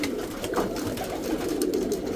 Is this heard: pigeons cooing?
yes